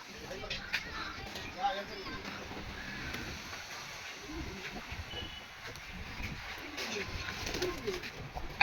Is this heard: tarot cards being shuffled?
no